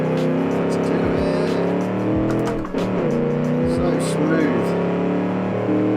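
A 1946-themed convertible sports car called the Parade drives in the Automation and BeamNG video game, its engine holding a loud steady tone with a few quick shifts in pitch and a brief dip mid-run.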